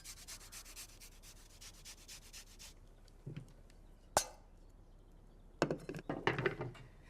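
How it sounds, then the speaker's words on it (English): Ginger being grated by hand at close range, a quick series of soft rhythmic rasping strokes, then a pause with a clink and a few more scraping strokes, faint and without talking. "And a little sedentary grating."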